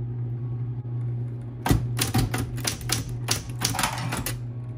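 Bursts of sharp mechanical keystrokes from a vintage typewriter clacking in quick irregular runs, close and loud, over a steady low electrical hum.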